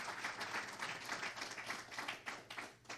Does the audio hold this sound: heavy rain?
no